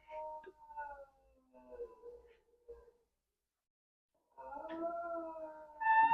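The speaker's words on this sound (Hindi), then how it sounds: "कुत्ते भी रो रहे हैं" Dogs howl in long, wavering, mournful tones, several drawn-out calls trailing off, then a pause before a louder group of overlapping howls rises near the end, clear against a quiet background.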